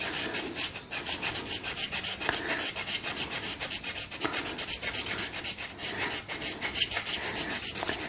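Cloth rubbed briskly over rusty chrome-plated motorbike parts, a rapid back-and-forth scrubbing swish repeating in a steady rhythm, close and fairly loud, with no voices.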